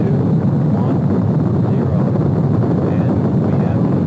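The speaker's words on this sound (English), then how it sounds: "The Skylab lifting off the pad now" The Skylab rocket lifts off the launch pad with a loud, dense, continuous roar that holds steady like heavy rumbling wind, no voices heard.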